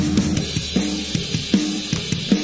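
An EZdrummer drum kit heard through overhead and room microphones together plays a steady groove of punchy kick and snare hits, with cymbals washing over a roomy tone.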